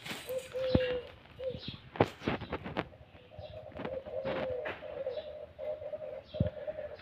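A white-breasted waterhen calls indoors with repeated mid-pitched tonal notes, some held and some clipped, mixed with sharp clicks and knocks from the room.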